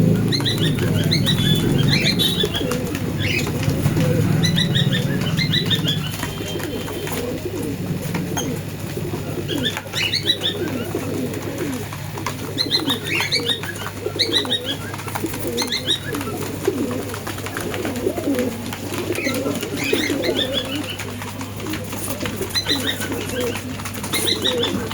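Pigeons kept for sale at a bird market in Murshidabad cooing repeatedly in overlapping calls, with a burst of wing flapping at the start and a steady background hum.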